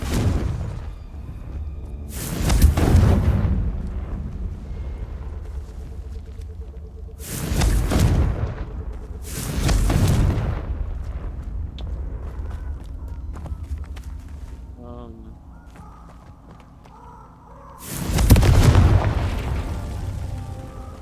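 Confringo fire spells in the video game Hogwarts Legacy go off as four loud, booming blasts spaced several seconds apart. Each burst has a rumbling tail, with quieter game ambience and faint effects between them.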